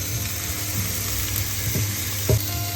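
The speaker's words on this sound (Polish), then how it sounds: "to sobie możemy zrobić tą cebulę" Chopped onion frying in a pan for a Christmas Eve mushroom soup, a steady soft sizzle with occasional stirring clatters, close and fairly quiet, no talk.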